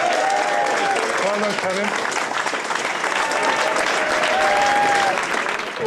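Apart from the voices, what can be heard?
audience applause for quiz champion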